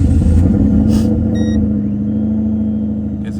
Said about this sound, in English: So we're gonna start the car and see what she does.